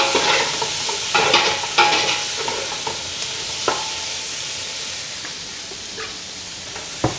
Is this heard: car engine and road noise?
no